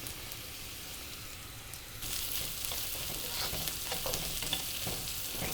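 Celery being stir-fried in a pan for vegetable fried rice, a steady sizzle that jumps louder about two seconds in as the celery hits the oil, with soft stirring scrapes over the continuous frying hiss.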